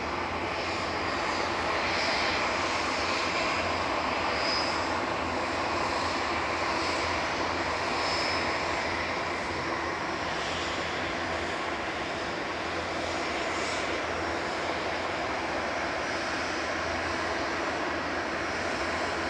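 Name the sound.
SAS Airbus A320neo arriving from Oslo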